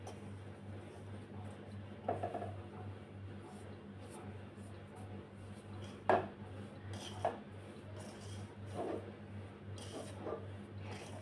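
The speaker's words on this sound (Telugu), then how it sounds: "ఇలా స్పూన్తో మొత్తం కలుపుకోవాలి" A spoon works hot oil into rice-flour dough for kaarapoosa, making faint, sparse clinks and scrapes against a bowl over a low steady hum.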